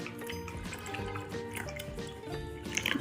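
Hot, not boiling, water pours into a container for a boric acid slime activator, a close, bubbling trickle with drips running continuously for a few seconds.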